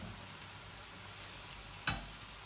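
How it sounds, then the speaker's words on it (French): Leeks sweat gently in a pan with nutmeg, salt and pepper, giving a soft, steady, low sizzle close by with one brief stir or clatter partway through. "J'étuve mes poireaux tout doucement pour qu'ils gardent leur couleur."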